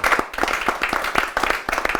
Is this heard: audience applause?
yes